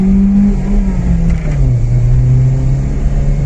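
A Citroën ZX 1.6i petrol engine starting up for the first time, a loud, close, steady idle hum with a slight rise and fall in pitch and no talking.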